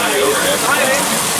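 Artificial rain from an overhead rain grid on a Hollywood studio set falls in a steady, dense hiss of water, continuous and fairly close for a brief moment.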